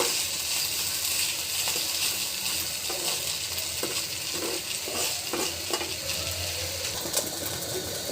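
Fish frying with onion and green chili, a continuous bright sizzle with repeated scraping stirs of a spatula against the pan, close and steady throughout, no speech.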